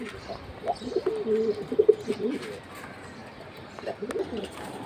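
Giribaz high-flying pigeons coo in low, repeated throaty bursts amid a busy background, with a few louder calls near the middle and again toward the end.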